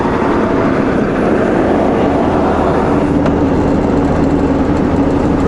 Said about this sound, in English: I closed my window here, so it's a little less engine noise.